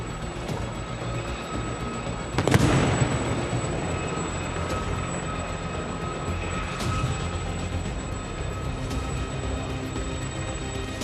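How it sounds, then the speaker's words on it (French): A Caïman military helicopter approaches during an army capabilities demonstration, a steady rotor and engine drone with a sharp whine, a brief louder burst early on, then a sustained rumble. "L'hélicoptère Caïman que vous entendez également approcher va déposer son groupe de commandos"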